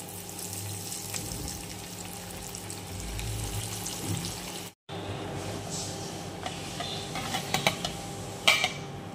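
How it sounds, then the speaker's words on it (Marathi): Alu vadi, sliced colocasia leaf rolls, frying in hot oil: a steady hiss and sizzle throughout, broken by a brief silent gap, with a few clinks near the end and no talk. "तेल छान असं तापलेलं आहे, त्यात आपण वड्या टाकून घेऊ।"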